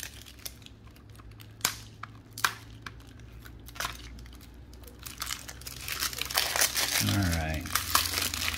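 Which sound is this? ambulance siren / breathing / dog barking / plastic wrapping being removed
plastic wrapping being removed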